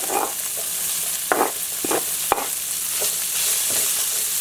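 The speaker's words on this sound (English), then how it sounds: "I'm just going to add in my onions to it." Onions stir-fried together with fried alligator meat in a pan for Cajun alligator fried rice, giving a steady sizzle broken by a handful of sharp utensil scrapes and clicks, close and fairly loud with no talking.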